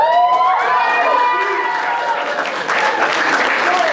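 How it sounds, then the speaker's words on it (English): Loud applause from a crowd at a youth talent showcase, with a few whoops and cheers mixed in, sustained for several seconds. "Another round of applause, come on, let me hear it."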